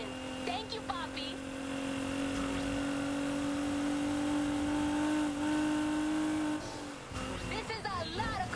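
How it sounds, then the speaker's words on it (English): Tuned car engine in the video game Need for Speed Heat, holding a loud sustained rev with a steady high whine, then dropping off near the end as tires squeal and other race sounds break in. "I love the sound of this engine."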